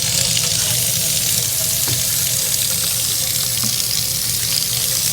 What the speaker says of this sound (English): you want to wash your hands with warm water very thoroughly